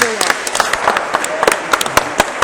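A crowd at a water polo match claps and applauds steadily with sharp individual claps standing out, while voices call out over it.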